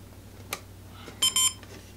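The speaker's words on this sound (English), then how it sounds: "there's a little beep to let you know that we're turning it on." A short electronic power-on beep from an Apeman H55 trail camera, then two quick brighter beeps close together, alone against a faint steady hum.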